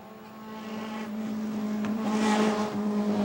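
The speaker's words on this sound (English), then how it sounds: "here comes a brace of Honda CRXs slipstreaming their way through the streets of Point Leamington on stage 11" Honda CRX rally cars race past on a town street stage of Targa Newfoundland 2003, their engine noise building steadily into a loud, close drive-by roar with no talking.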